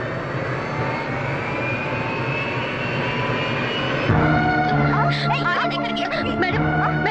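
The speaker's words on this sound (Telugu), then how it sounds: "The flight is going to take off." A jet airliner's engines roar steadily, then spool up louder with rising whining tones as the plane accelerates for takeoff, heard from inside the cabin.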